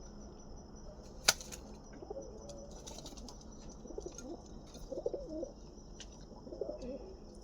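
Soft, low cooing of a female pigeon repeats several times close by, with a sharp tap early on and a faint high hum in the background.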